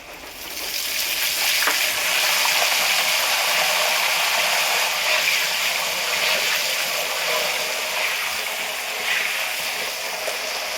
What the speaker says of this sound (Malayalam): ഈ പൊട്ടല് തീരുമ്പോഴാണ് നമുക്ക് കോരാൻ പാടുള്ളൂ കേട്ടോ.